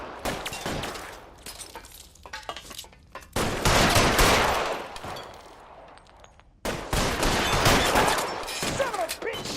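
Gunfire in L.A. Noire: a rapid, loud exchange of shots and bursts, split into three heavy flurries by two brief lulls, harsh and close throughout.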